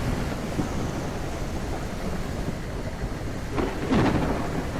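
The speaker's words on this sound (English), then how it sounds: "Thunder, rain, lightning." A thunderstorm with rain in the video game Park Ranger Simulator: steady rushing rain with a deep rumble of thunder swelling near the end.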